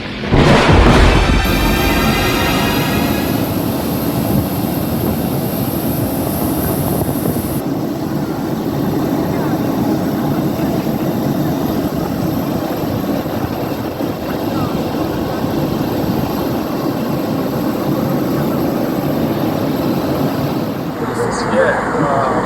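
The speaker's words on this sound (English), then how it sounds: "We just took off from Luton Airport and on our way to Hurghada, Egypt." Airliner jet engines roar steadily during the climb just after takeoff from Luton Airport, a loud continuous cabin rumble with a rising whine at the start and no talk.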